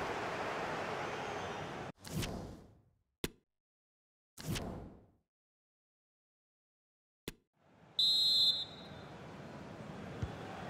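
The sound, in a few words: referee's halftime whistle in FIFA 23 video game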